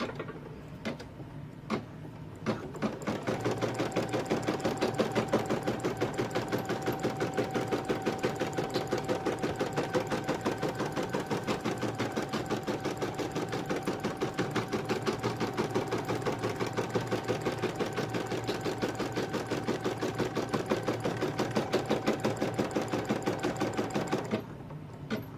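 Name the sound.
embroidery machine stitching tack down on monkey lovey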